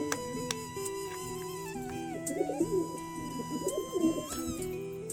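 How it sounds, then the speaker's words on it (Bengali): Pigeons cooing nearby as they drink fresh water, their soft throaty coos rising and falling repeatedly over a steady tonal hum in the background. "এই যে সব কটা পায়রায় জল খাবে।"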